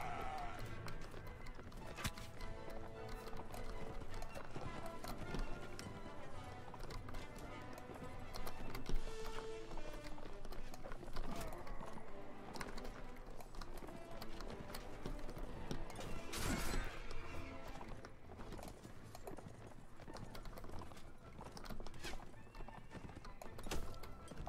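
Horses gallop during a chaotic battle in the Mount & Blade Warband mod, with steady clip-clop hoofbeats and occasional neighs running through dense, loud background clamor and music.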